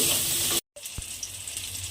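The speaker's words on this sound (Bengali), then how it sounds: "এবারে এই নুন আর হলুদটা দিয়ে বেগুনটাকে প্রথমে আমাকে একটু লাল করে ভেজে নিতে হবে।" Eggplant sizzles in hot oil in a pan with salt and turmeric, a steady hiss broken by a brief silence and then a soft clink before the frying resumes.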